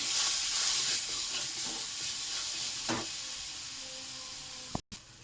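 Spices and koi fish curry sautéing in a pan: a close, continuous sizzling hiss with occasional stirring scrapes, fading slightly toward the end before a sharp knock and a brief dropout.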